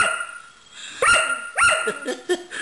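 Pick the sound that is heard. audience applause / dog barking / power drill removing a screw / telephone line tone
dog barking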